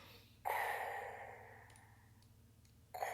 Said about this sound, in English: enough with the heavy breathing